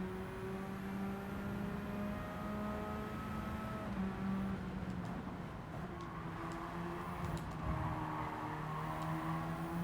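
Radical race car driven in the Gran Turismo 7 video game, a steady engine drone with shifting harmonic tones and occasional revving swells, loud and continuous throughout with no talk.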